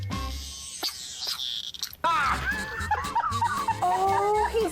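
A dog whimpers and yips with a cicada held in its mouth, giving short high whines close by between bursts of background noise and talk.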